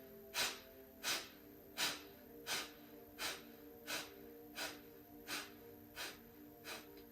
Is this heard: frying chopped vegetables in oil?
no